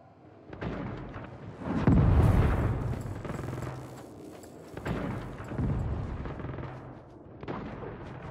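Heavy cannon fire in the Saints Row reboot action game: several deep, rumbling booms spaced a few seconds apart, each swelling and slowly fading amid ongoing chaotic battle noise, loud and close.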